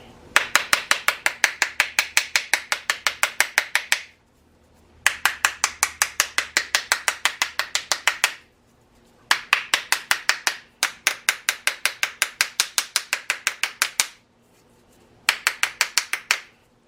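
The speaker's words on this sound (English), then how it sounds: "I'm going to give some taps on this one just because I want that design to come out." A 3D carrot bath bomb mold is tapped in quick, even runs of close, crisp knocks, five bursts separated by short pauses.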